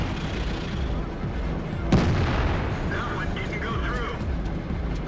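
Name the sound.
tank gun firing in World of Tanks video game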